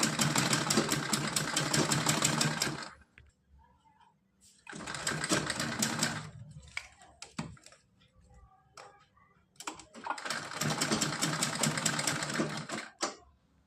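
A sewing machine runs a straight seam on a small designer outfit for a Kanha idol, in three loud close bursts of rapid whirring stitching separated by quiet pauses with light handling clicks.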